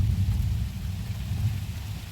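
Low thunder rumbles briefly through a rainstorm, a deep, sustained roll beneath a soft hiss of falling rain.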